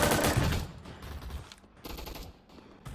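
Bursts of gunfire crackle through a video game arena fight, a loud opening volley followed by fainter, uneven shots over a few seconds.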